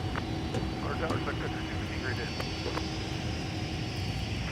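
An Airbus A330 airliner taxiing at Minneapolis–Saint Paul airport, a continuous distant engine hum with faint whine, alone without talk.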